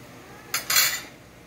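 Metal cutlery scraping and clinking against a baking dish while cutting a piece of simple Brazilian oven-baked rice, two short close bursts in a quiet kitchen.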